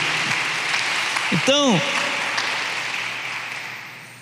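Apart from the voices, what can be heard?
congregation applauding in church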